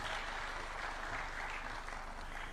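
An audience claps steadily at a Kenyan presidential event for the unveiling of a university innovation park, a dense, even wash of applause with no talking.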